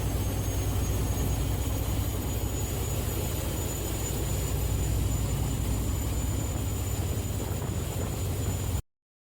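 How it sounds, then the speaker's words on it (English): Large Swedish boat turbo diesel engine running steadily, with a high, constant turbo whistle held above a dense, loud low rumble that does not let up. "Do you hear that turbo whistle?"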